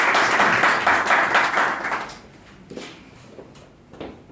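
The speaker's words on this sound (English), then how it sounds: "let us have a round of applause to invite Bill King" Audience applause at a business seminar greets a guest speaker, a burst of clapping that is fairly loud at first and thins out after about two seconds into a few scattered, fading claps.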